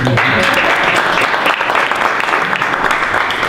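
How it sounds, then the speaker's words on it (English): An audience at a talk breaks into steady applause, dense continuous clapping that stays close and evenly loud throughout. "Let's give her a round of applause."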